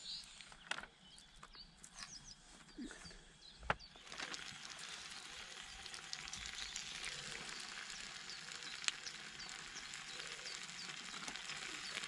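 Bacon fries in a pan aboard a Shetland 535 boat, starting as faint crackles and then swelling into a steady, dense sizzle with a few sharp pops, close and continuous with no talking.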